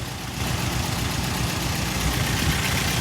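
A 1961 Sunbeam Alpine II engine running at a steady idle, a close, even rumble with a low throb that holds for the whole stretch, with no speech over it.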